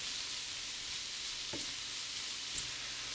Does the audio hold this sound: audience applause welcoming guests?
no